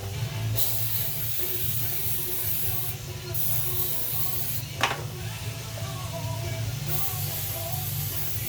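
Non-stick cooking spray hisses from a can into a 13 by 9 glass baking pan in several sustained bursts with brief gaps, over a steady low kitchen hum and a faint clatter.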